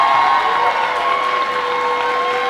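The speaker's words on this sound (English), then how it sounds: "you're gonna clap for my students because they're so awesome" Audience applause with some cheering at a fifth grade moving up ceremony, a steady, dense wash of clapping filling the whole stretch at close range, with no talk over it.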